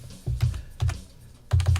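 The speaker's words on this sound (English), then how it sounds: "I'm going to try typing in my chat window and see if that does anything." Typing on a computer keyboard in a chat window, close by: short bursts of rapid key clicks with brief pauses between them.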